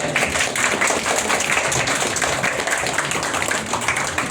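Children at a traffic week event in Afyonkarahisar break into steady applause, a dense, close patter of many small hands clapping together for several seconds.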